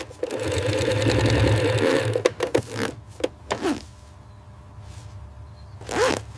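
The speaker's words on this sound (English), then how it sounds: "Now we'll sew the seams together, leaving one end open." A sewing machine stitching sweater seams runs in a close, steady whirring burst for about two seconds, then gives way to handling clicks, fabric rustles and a brief rustling swish near the end.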